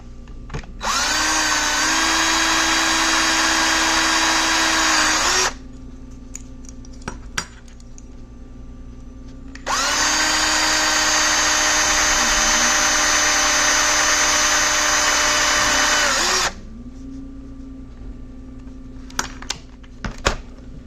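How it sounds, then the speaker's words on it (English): A power drill whines loudly in two long bursts of several seconds each, drilling into the roof of a 1973 Oldsmobile 442 police cruiser, separated by quieter pauses with small clicks and knocks. "let me continue drilling this"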